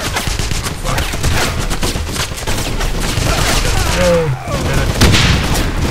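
In the Wolfenstein video game, a barrel explodes after being shot, with booming blasts and dense gunfire in a loud, chaotic burst. Players talk over the noise.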